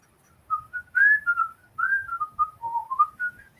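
Someone whistles a wavering, tuneful line of short and sliding notes, clear and fairly close, with brief gaps between phrases and no talk.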